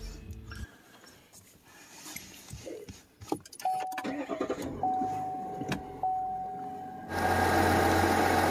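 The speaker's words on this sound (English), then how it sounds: "Cooling fans have kicked on right now on a kind of a medium speed." The engine cooling fans of a 2021 GMC Sierra Elevation 1500 pickup run at medium speed and build into a steady whooshing hum near the end, after a quiet stretch of engine noise, scattered clicks and a few short chime tones.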